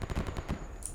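Rapid bursts of video-game gunfire from Escape From Pripyat crackle in close succession across a brief moment, loud and dense with no pause.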